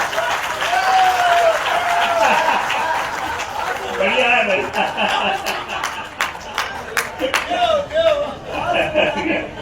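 Scattered audience applause at a poetry recital, uneven clapping with chuckles and voices talking over it, growing in bursts toward the end.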